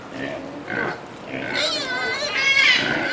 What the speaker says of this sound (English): They're making their squealy sounds.